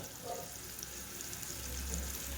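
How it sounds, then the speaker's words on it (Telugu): Onions frying in a pan for pulao give off a steady, quiet sizzle with low, even crackle, alone without talk. "ఈ ఉల్లిపాయ కూడా మంచిగా కలర్ చేంజ్ అయ్యే వరకు అయితే వేయించుకోవాలి"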